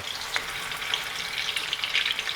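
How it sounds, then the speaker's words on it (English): Meatballs sizzle and fry in a hot pan as they are turned to brown, a continuous crackling hiss with small pops scattered throughout, close and fairly loud, no voices. "keep rotating these meatballs till all sides are browned"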